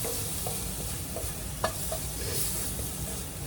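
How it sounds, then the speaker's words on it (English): Garlic frying in a pan for a pork chop dish, a steady close sizzle with a few soft stirring scrapes and no one talking. "Let that garlic get a little roast on it."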